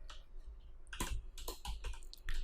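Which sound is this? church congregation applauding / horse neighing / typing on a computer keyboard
typing on a computer keyboard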